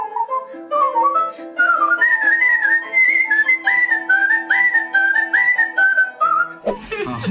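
A singer from a band, a two-time world whistling champion, whistles a clear, bright melody with wavering pitch over a soft steady accompaniment in a song, ending with a brief burst of noise.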